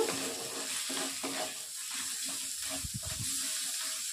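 Spice paste with chilli powder and cumin powder sautéing in hot oil in a pan, a steady soft sizzle with a spoon stirring and scraping, close and quiet, no speech.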